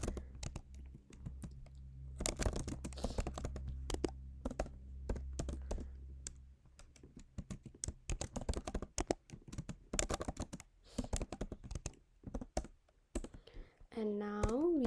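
Code being typed on a computer keyboard produces a dense run of close, crisp key clicks in uneven bursts, with a low hum early on and a short voice-like sound at the end.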